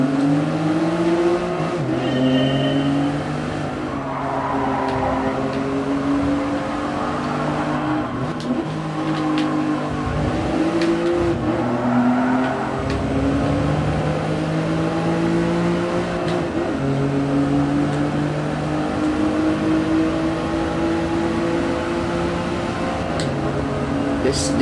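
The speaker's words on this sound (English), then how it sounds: "This Yaris sounds really nice." A Toyota Yaris race car in Gran Turismo Sport drones loudly and continuously, engine pitch rising and falling through gear shifts and revs, close up and dominant with no talk.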